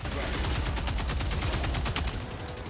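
Adjudicator rifle in Helldivers 2 firing continuously at a rapid steady rate, loud and dense with no pauses.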